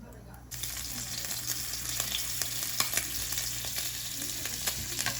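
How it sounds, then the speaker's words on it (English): Turkey bacon frying in a little oil in a skillet over a low flame gives a steady, close sizzle with light crackles and occasional stirring. "I'm going to start my turkey bacon with a little bit of oil, just a little bit, just to grease the skillet"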